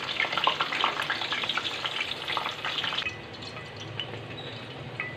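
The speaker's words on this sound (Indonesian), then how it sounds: "Terlebih dahulu kita goreng tempenya." Tempeh fries in hot oil with a busy, crackling sizzle, loud at first and then settling into a quieter, softer bubbling. The cooking is close by and there is no talking.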